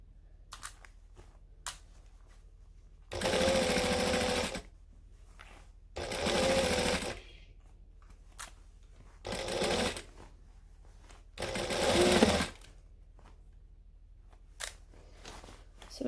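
Sewing machine stitching a fabric sleeve slowly, four bursts of steady mechanical whirring, each a second or so long, separated by quiet pauses with faint handling clicks.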